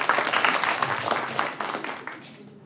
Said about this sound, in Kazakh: шапалақ ұрып жіберсе